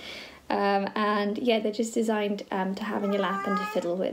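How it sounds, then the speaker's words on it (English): A house cat meows several times close by, its short cries mixed in with a person talking steadily over them. "excuse my cat"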